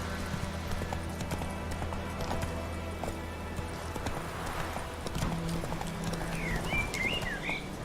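Roach, Geralt's horse in The Witcher 3, galloping with rapid, steady clip-clop hoofbeats under a low ambient hum, with a few faint bird chirps near the end.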